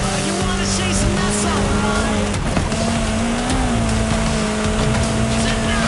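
A Toyota Yaris in Forza Horizon 5 drives with a loud, steady engine drone that rises in pitch midway, with occasional tire noise and voices talking over it.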